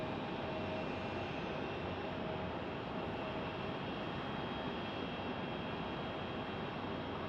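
A Dornier jet aircraft at Phoenix Sky Harbor Airport gives off a steady, even engine hum and whine at a moderate distance, with no changes in level and no voices.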